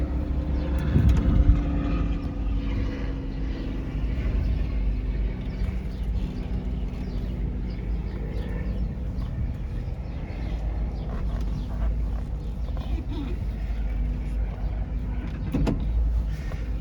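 A 1967 Buick Riviera idles and pulls off for a drive, its engine giving a low continuous rumble heard from inside the car, with a brief mechanical clunk near the start and another near the end.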